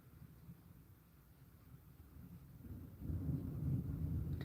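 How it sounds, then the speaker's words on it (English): Thunder rumbles low and distant, a faint rolling growl that swells louder in the second half and holds at a steady roar to the end. "Did y'all hear that thunder?"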